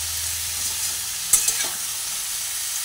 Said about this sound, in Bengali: দিয়ে ভালোভাবে এঁচোড়টাকে প্রথমে ভেজে নিচ্ছি।